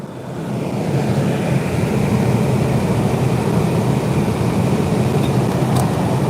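Hot water vehicle sanitiser sprays onto a car, a broad, steady hiss that rises within the first second and then holds loud and constant to the end.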